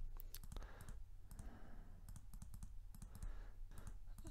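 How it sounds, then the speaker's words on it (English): Repeated mouse left-clicks while working in Photoshop, sharp close clicks in quick bursts with brief pauses between groups, no talk. "Keep left clicking until the light starts going down."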